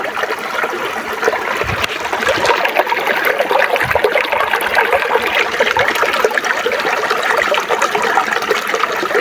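Creek water flows steadily and close by, a constant broadband rush and trickle with no speech.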